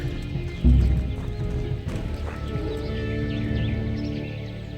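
Horse hooves in the medieval video game Kingdom Come: Deliverance, a steady clip-clop of riding with a loud thump near the start, a brief whinny, and a continuous game soundscape running underneath throughout.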